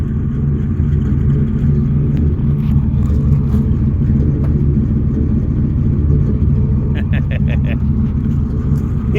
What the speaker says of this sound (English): You can hear each side of the engine just cackling.